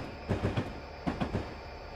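Train wheels clatter over crossing rails in Train Simulator 2015 on the Miami to West Palm Beach route behind an F40PHL-2 locomotive, giving two quick bursts of rhythmic clacks over a steady rolling rumble.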